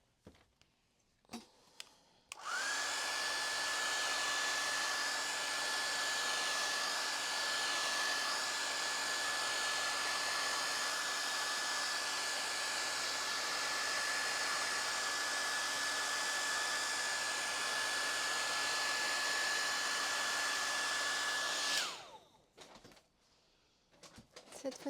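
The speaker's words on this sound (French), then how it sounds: "Je vais le sécher d'abord." A hair dryer runs for about twenty seconds at a steady roar with a faint tonal whine, drying paint on a circle painting, starting and stopping abruptly with light handling noises before and after.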